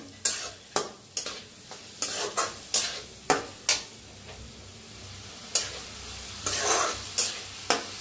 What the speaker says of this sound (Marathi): आता मटकीची डाळ बी जरा भाजून घेऊया तेलातच।